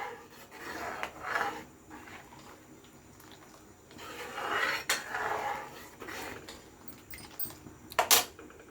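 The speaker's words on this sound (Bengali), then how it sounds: "এবার চাটা এইভাবে বারবার ধরে নাড়িয়ে চাড়িয়ে ফোটাতে হবে।" A spoon stirs tea with crushed ginger in a pot, making quiet, intermittent scrapes and metallic clinks that come in short bursts, louder toward the end, with no talking.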